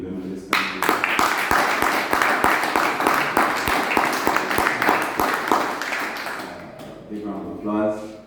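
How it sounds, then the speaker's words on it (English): A crowd applauds for the women of Barbados at a senior games event, dense steady clapping that swells after a moment and fades near the end, with a voice beginning to speak over it. "a big round of applause"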